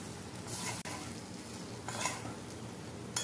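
Long beans and fried potatoes are stir-fried in a pan, a soft continuous sizzle broken by a few scraping stirs and light utensil clinks, close and fairly quiet, with no speech.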